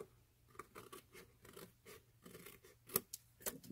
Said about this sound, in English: I'm just going to trim that off with my snips.